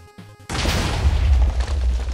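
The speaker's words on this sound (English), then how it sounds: "Explosion. Kind of epic." A sudden booming blast in Minecraft, a loud low roar that bursts in after a brief quiet moment and rumbles on, close and heavy, with no talk.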